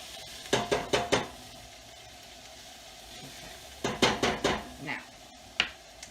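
Onions and garlic sizzling in a pot, stirred in two quick bursts of four scraping strokes each, with one last stroke after, over a low steady fry hiss; close and fairly quiet.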